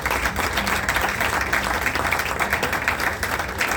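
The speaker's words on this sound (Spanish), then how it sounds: "Por favor, un aplauso para Lola." Audience at a book fair presentation in Seville applauding Lola, a dense, loud and steady roar of many hands clapping together, close and continuous throughout with no talking over it.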